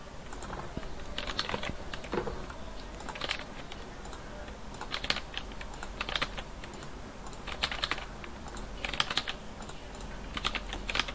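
Steady typing on a computer keyboard, text being entered into a table in a document: irregular bursts of close, crisp key clicks throughout, with no talking.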